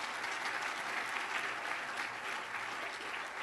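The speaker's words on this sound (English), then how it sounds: "Nice round of applause to their leaders." Audience applause at a 2014 State of the County Address: sustained, even clapping from an indoor crowd, moderately loud, with no talking over it.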